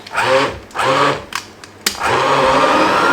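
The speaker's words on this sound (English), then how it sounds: "I'm just going to kind of grab that, push it under, turn on the blender" An immersion blender purees pumpkin and carrot soup in bursts: two short whirring pulses, a brief pause with a clunk, then a steady continuous blend toward the end, loud and close, with no talking.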